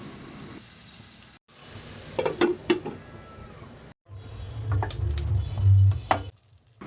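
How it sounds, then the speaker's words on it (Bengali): Beef pieces for shashlik kebab fry in a little oil over low heat, with a steady close sizzle, brief stirring clatter and a louder hissing surge near the end. "একদম সামান্য তেল দিয়ে আমি সবগুলোকে ভাজবো।"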